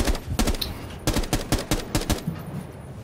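Rapid, irregular gunfire in Rainbow Six Siege, with sharp shots that come singly and in quick bursts at moderate volume for about three seconds.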